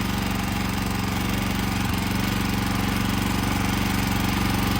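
Generator engine drones steadily and loudly at close range, a constant rumbling hum with a regular mechanical pulse and no pauses.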